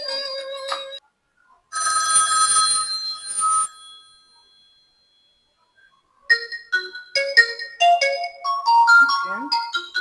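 Ringtone from a Tecno Spark 30c budget smartphone played through its dual speakers: a bright electronic tone burst, a pause, then a rising melodic sequence of short notes, fairly loud and alone.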